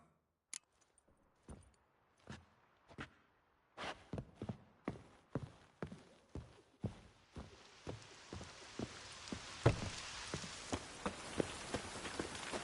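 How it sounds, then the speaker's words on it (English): Video-game rain in The Witcher 3 begins as scattered separate drops and taps, then thickens into a dense, steady hiss of rainfall on surfaces with regular rhythmic clopping footsteps running through it. "Rain."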